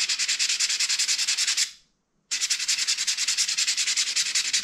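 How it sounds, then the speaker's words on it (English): A metal file stroking back and forth across chamfered edges of mountain bike parts, a steady rhythm of rough rasping strokes, close and loud, pausing briefly before resuming at the same pace. "I actually want to like file them down just a bit to get a bit of a smoother edge"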